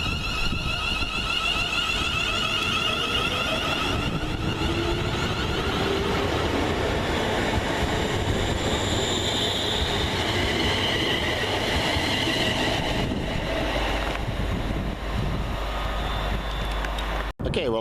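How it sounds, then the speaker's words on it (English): Class 380 electric multiple unit 380 111 pulls away from Hairmyres station, a steady loud rumble of motors and rolling wheels with rising whine tones, sustained close by throughout before cutting off abruptly at the end. "here's 380 111 departing Hairmyres"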